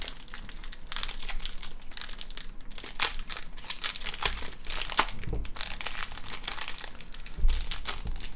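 A Magic: The Gathering Innistrad: Crimson Vow set booster pack wrapper is crinkled and torn open up close, a continuous loud crackling of plastic foil with sharper rips and a few heavier handling bumps.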